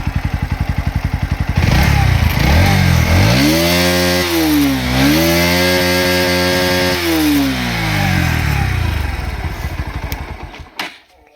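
A Bajaj NS 125 motorcycle engine runs close by through its exhaust, starting with a rapid, steady idle putter. It then rises in a smooth rev, holds, dips and climbs again before settling back and cutting off at the end, with no talking.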